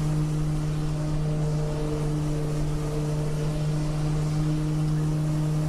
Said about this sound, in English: Listen to that turboprop.